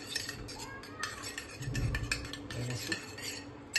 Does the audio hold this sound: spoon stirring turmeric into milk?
yes